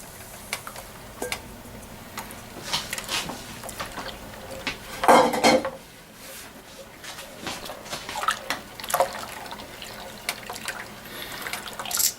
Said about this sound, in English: after it's all melted, keep on stirring, make sure it's all dissolved.